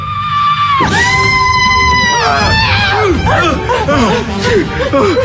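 Loud cartoon voices shout and cry out in a rising, wavering chorus, with overlapping yells and whoops continuing throughout.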